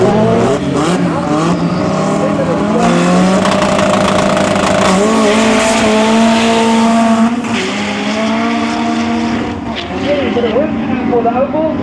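Race cars launching side by side off a drag strip line at a regional meet, engines loud and sustained with rising revs, under a commentator's continuous talk.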